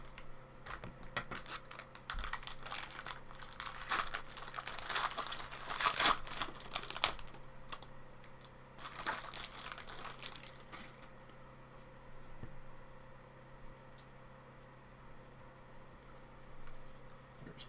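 A 2018 Bowman Draft baseball card pack wrapper crinkles and tears open, with bursts of sharp foil rustling and handling, close to the mic and without talk.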